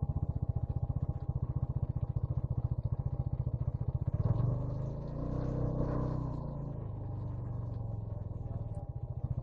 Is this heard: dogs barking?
no